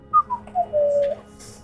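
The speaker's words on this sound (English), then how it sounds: "Innocent whistling." A person whistles a few short, clear notes, each dropping in pitch, ending on one longer held tone, close and alone.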